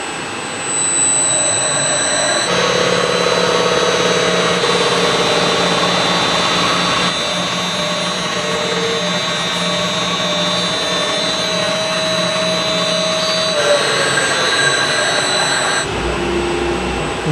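A cylinder-head resurfacing machine runs steadily and loudly throughout, a continuous machining drone with shifting tonal lines that changes pitch near the end.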